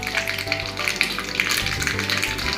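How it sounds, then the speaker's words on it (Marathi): Curry leaves dropped into hot oil with mustard seeds and cumin for tempering, crackling and sizzling steadily and close up with sharp pops throughout, no voices. "आता ह्यात आपण कढीपत्ता टाकून घेऊया."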